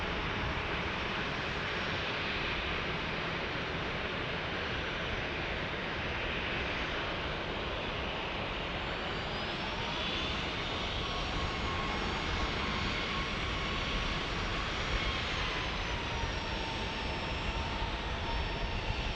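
A Southwest Airlines passenger jet at a busy San Diego airport gives a steady, broad engine roar that holds evenly for the whole stretch, loud and continuous with no voices over it.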